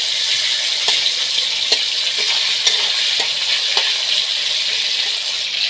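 Tomatoes with a little salt sizzle in hot oil in a pan for a vegetarian chickpea dal, a steady bright hiss broken by the light clicks of stirring, up close with no voices.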